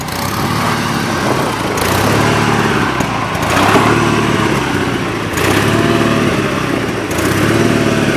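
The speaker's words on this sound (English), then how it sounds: "I'm gonna go up and get on the front tractor and steer" A tractor engine runs steadily and loudly nearby, a rough continuous drone with a few surges in revving, no voices over it.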